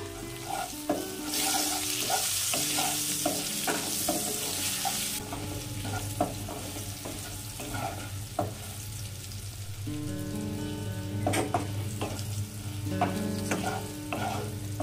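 Potatoes fry with turmeric and salt while a spatula scrapes and taps against the pan in uneven bursts. A steady sizzle runs underneath, brighter at the start, and no voices are present.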